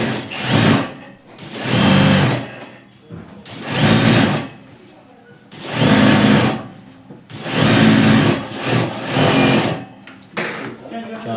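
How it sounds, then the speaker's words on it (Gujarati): Stitching over the snap area of capri pants, a sewing machine whirs in about six close, loud bursts with brief pauses between them. "પછી ચાંપની સિલાઈ મારી દેવાની"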